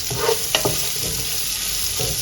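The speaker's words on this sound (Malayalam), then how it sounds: "കുറച്ച് ഉപ്പിട്ടിട്ട് ഒന്ന് വഴറ്റിയെടുക്കുക" Onions with a little salt sautéing in a pan for a chicken biryani, giving a dense, steady sizzle with a few brief scraping stirs, close and continuous.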